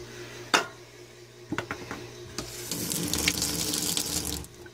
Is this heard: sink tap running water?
yes